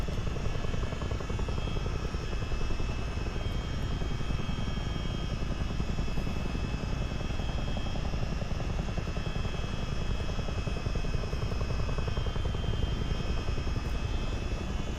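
A CH-47D Chinook helicopter in a video game flight sim flies over an airfield with a steady, unbroken rotor and turbine roar, loud and constant throughout with no voices.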